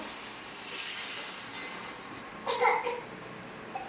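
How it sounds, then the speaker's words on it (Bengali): Spiced water poured into a hot pan of masala and fried potatoes flares into a loud steamy hiss, followed by bubbling and a few sharper spurts, close up with no talking. "এই যে মশলার জলটা"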